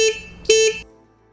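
A motorcycle horn on a KTM Duke 250 or Bajaj Dominar 400 honks twice, short electric beeps close by, the second slightly longer, followed by quiet.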